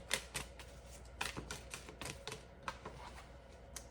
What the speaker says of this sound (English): We're going to reshuffle.